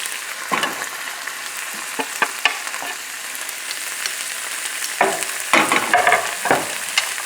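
Chopped cilantro being stirred into a salmon stuffing in a hot frying pan, a steady sizzle punctuated by several scraping stirs of the spoon, no talking.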